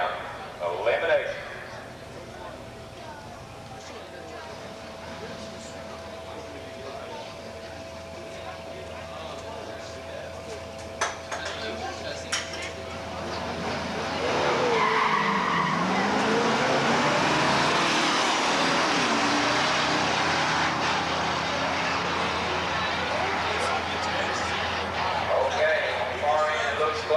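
Muscle cars including a 1967 Camaro with a 396 and four-speed launch at a drag strip elimination round; a distant engine drone swells into a loud roar midway, with an announcer talking over it.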